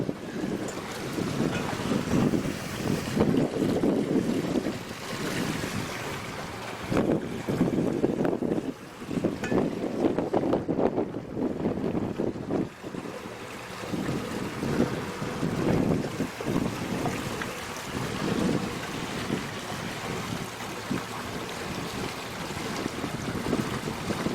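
A 2013 SeaFox 226 Pro Series center console boat runs through deep water, with a steady rush of hull and spray and heavy wind buffeting the microphone throughout.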